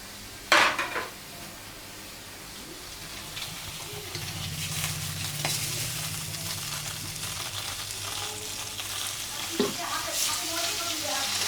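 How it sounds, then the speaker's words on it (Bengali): Fish frying without oil in a pan, with steady sizzling, occasional clinks of utensils against the pan and a broad hissing wash throughout, close and moderately loud. "তেল ছাড়া রান্না করা যায়, তেল ছাড়া মাছ ভাজতেছি।"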